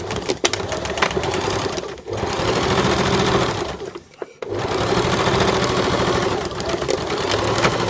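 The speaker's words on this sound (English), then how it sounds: "I want to stitch about 1 centimetre in from the edge just to hold that in place" Sewing machine stitching a waistband about a centimetre from the edge, a loud, close, rapid whir that runs in long bursts and stops briefly twice before starting again.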